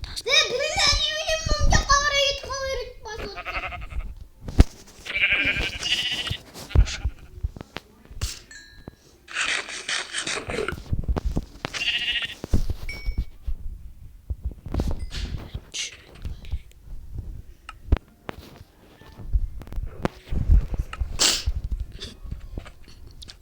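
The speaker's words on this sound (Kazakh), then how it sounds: "О, қойлар жүр." Sheep in the Minecraft video game give several short bleats at the start, followed by other game noises, a player's voice and scattered clicks and thumps.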